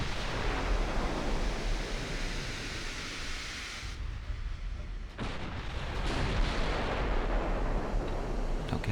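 Warship guns firing in the naval battle game Ultimate Admiral Dreadnoughts, heard as a sustained roar of heavy cannon fire and booming over a constant sea-like rumble, loud and continuous with a brief dip midway.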